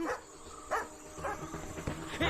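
A dog barks downstairs in a house, several short separate yips and barks spaced irregularly at moderate distance, with faint background noise between them.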